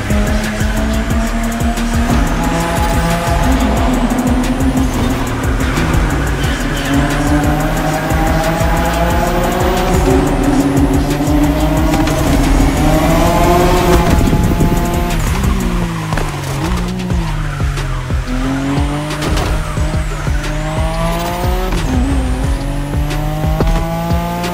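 A Nissan Skyline GT-R R32 drifts in The Crew Motorfest, its engine revving loud and continuous. Tires squeal in long repeated wails as the car swings through slides, with shifting pitch and no talk.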